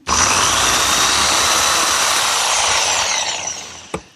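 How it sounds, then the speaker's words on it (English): A jigsaw elongates holes in wooden biscuits during a woodworking project, giving a loud, steady, close-up buzzing cut that runs almost four seconds before stopping with a brief click. "I want to elongate the hole using my jigsaw so that there'll be room for movement"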